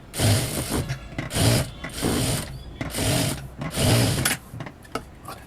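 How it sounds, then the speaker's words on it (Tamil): A sewing machine stitches along the lining edge of a blouse in loud, close bursts, each run about half a second long with short pauses between them. "அதே போல் லைனிங்கோட எட்ஜ்லேயும் நம்ம வந்து ஸ்டிச் பண்ணிக்கிறோம்."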